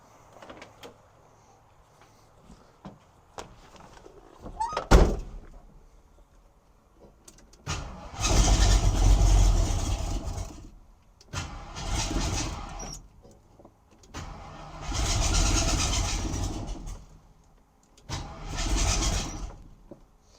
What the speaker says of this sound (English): You can hear the starter sounding pissed off.